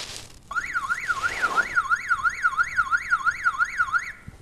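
An electric siren sealed under the glass bell jar of a vacuum pump gives a muffled, rhythmic up-and-down wail that repeats steadily for several seconds and then stops.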